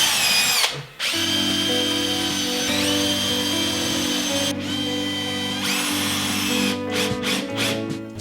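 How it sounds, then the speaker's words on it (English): A power drill with a small 3mm bit bores pilot holes into oak-veneered MDF, a steady high whine that runs in several sustained bursts, briefly stopping and restarting. "I'm switching to a little 3mm bit as a pilot for the screws. And again, I'm just supporting it as I drill down."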